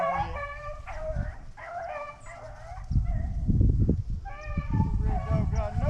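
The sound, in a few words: hunting dog baying on a rabbit's scent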